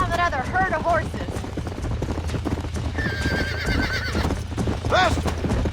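Rhythmic hooves clatter at a gallop while horses whinny loudly several times, with a low engine-like rumble underneath, in the video game Red Dead Redemption.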